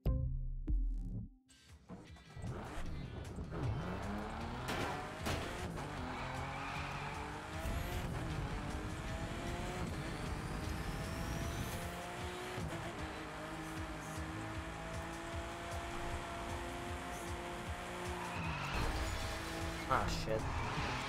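A BMW races in the video game The Crew 2, its engine roaring steadily throughout with tire squeal and skidding, and a voice talks over the driving.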